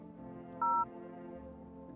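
Telephone keypad tone from a phone in a horror video game, a single short dual-pitch beep over a steady low background hum, quiet and alone with no talking.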